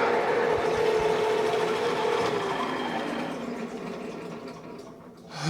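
An annular cutter bit on an MT3 adapter in a drill bores through metal, giving a steady grinding whir with a faint tonal whine that holds loud and even for several seconds, then eases slightly toward the end.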